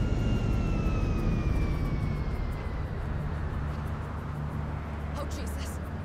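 An airplane in Grand Theft Auto V comes in for a landing, its engine drone steady and loud with a descending whine throughout, while people talk over it.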